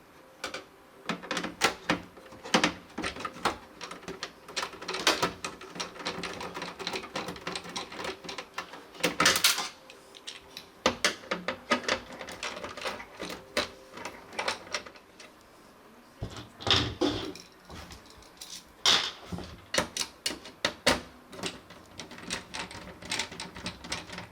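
Screws being taken out of a computer motherboard make a run of close, irregular clicks, rattles and small metallic knocks, with brief louder clatters, and no talking.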